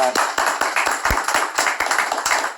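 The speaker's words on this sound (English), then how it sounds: "we're gonna give her a round of applause" A few people clap in a small indoor setting, sharp distinct hand claps in a loose, uneven rhythm close to the microphone, with a brief voice at the start.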